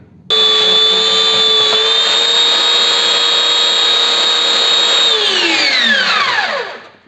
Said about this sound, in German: Die sägen wir jetzt erstmal auf der Kreissäge noch ein bisschen glatt